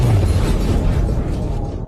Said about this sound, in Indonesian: ia menembak drum minyak hingga meledak dan kabur di tengah kekacauan